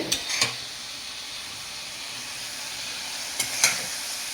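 Spice paste for cashew mutton curry sautéing in a pan, a constant close sizzle and hiss broken by a few sharp scrapes of the spoon stirring near the start and end, no voices.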